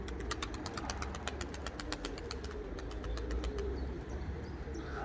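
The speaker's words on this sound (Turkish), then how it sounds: "kanat kanada vurduğu zaman ses getiriyor" Pigeon wings clapping together in flight, a fast series of sharp claps in the first few seconds that then fades, with soft cooing and an engine rumble in the background.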